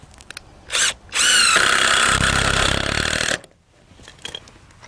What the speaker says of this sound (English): Screw those on there